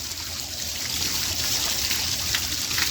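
Water trickles and dribbles steadily down clogged, obstructed rain chains, a continuous close splashing flow with no voices.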